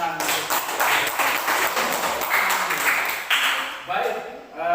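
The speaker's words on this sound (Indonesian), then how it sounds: "Silakan tepuk tangan." A school class applauds a group's presentation, a brief burst of scattered clapping mixed with voices and chatter in the room, fading as a teacher's voice returns.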